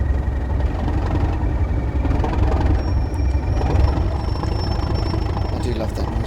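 The diesel engine of a Class 150 train in Train Sim World 2 runs steadily at idle, a loud, continuous low rumble and whir with a faint whine entering partway through.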